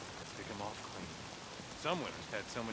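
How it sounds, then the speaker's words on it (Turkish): Rain in the Days Gone video game hisses as a steady, broadband wash of falling water over a rugged outdoor setting, while a voice talks briefly over the downpour. "İyi de yağmur yağıyor."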